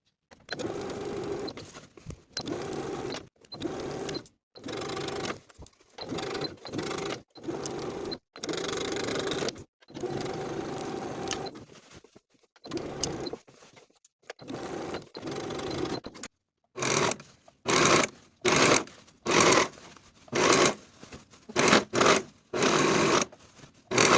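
A sewing machine stitching a denim jacket sleeve in place, running in repeated bursts of steady whirring cut by short pauses, with the bursts growing quicker and more clipped near the end.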